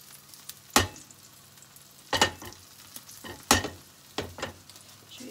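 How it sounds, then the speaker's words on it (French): Vegan gluten-free chickpea nuggets fry in oil in a pan, a quiet sizzle broken by several sharp utensil clatters and scrapes at irregular intervals, with no talk. "Je vais rajouter un petit peu d'huile"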